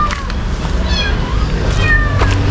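Several cats meowing in a cemetery, a few short rising and falling calls over steady outdoor background noise, moderately close, with no clear talking.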